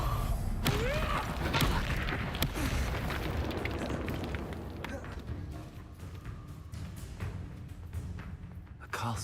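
Confringo fire spell explosion in Hogwarts Legacy amid a busy duel: a dense, loud roiling blast with crackling bursts and thumps, sustained throughout, with voices mixed into the chaos.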